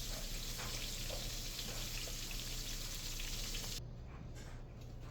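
Pieces of squirrel frying in grease, a steady dense sizzle and crackle, close and even, quieting slightly near the end.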